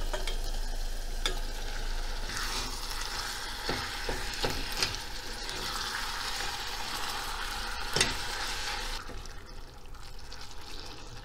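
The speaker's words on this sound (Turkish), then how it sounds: "Bu aşamada kıymasını ilave edeceğim." Minced meat, about 200 grams, sizzles and fries steadily in a pan with softened onions for a savoury börek filling, with occasional stirring scrapes and clinks throughout and a quieter tail at the end, no voices.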